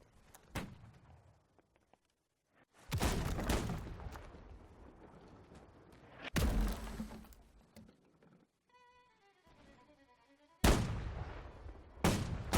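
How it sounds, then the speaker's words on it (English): Carronade cannon fire from a sailing ship during a naval battle in Holdfast: Nations At War, with three loud booming blasts separated by quiet gaps and a thin mechanical whine between them. "Carronade on the front taking a shot."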